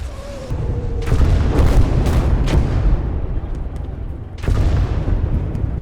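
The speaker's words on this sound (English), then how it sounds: "I call in artillery immediately to help support" Artillery fire in a World War II strategy game: loud booming blasts arrive in clusters, several heavy thuds early on and another strong burst near the end, over continuous rumbling battle noise.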